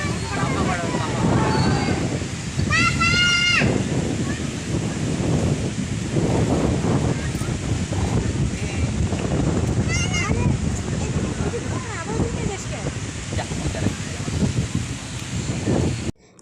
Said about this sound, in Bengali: প্রচন্ড হাওয়া দিচ্ছিল